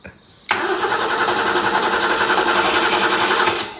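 A BMW E30 320i's starter motor cranks the engine continuously after a short quiet pause, a loud, close, rapid whirring churn that keeps going without catching.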